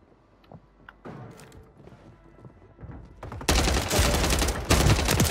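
Call of Duty Warzone gunfire on Rebirth Island: quiet footsteps and clatter, then a sudden loud sustained burst of rapid shots with heavy thuds continuing to the end.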